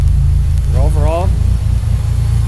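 A 420A performance engine fitted with methanol injection, CO2 and two-step idles steadily on its own with a loud, continuous low rumble. A brief voice-like sound rises over the engine partway through.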